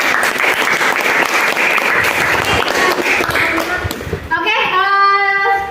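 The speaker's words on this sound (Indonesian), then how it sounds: "Oke, beri aplaus untuk kelompok ini." A classroom of students applauds a student group, steady loud clapping from many hands that thins out toward the end, with some voices mixed in.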